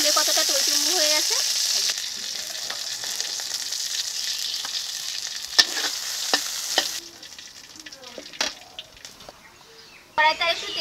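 Giant freshwater prawns coated in mustard paste and wrapped in pumpkin leaves fry with a steady close-up sizzle, broken by occasional clicks and scrapes as the pan is stirred, then quieting toward the end before a final burst.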